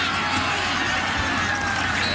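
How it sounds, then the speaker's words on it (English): A big crowd fills a college football stadium in Piscataway during a high school game, a broad steady roar heard from a distance beneath a commentator's voice. "Big crowd."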